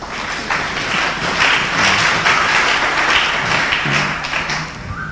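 A church congregation applauds together during a New Year's Eve thanksgiving night service, a dense, steady wash of clapping that fills the room and holds for several seconds.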